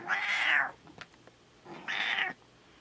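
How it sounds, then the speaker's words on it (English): A house cat sitting on a person's lap gives two drawn-out meows, close and fairly loud, separated by a short pause with faint rustling between them. "We have a cat on my lap."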